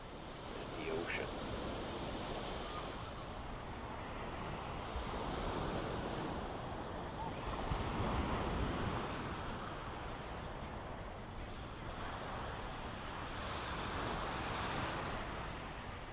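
Ocean waves roll onto Waikiki Beach in Honolulu, Hawaii, a soft continuous wash of surf swelling and receding in slow surges, fairly distant and quiet with light wind.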